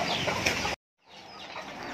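Native abuyo chickens cluck busily nearby as their owner calls them; the sound cuts out for a brief gap and resumes somewhat softer.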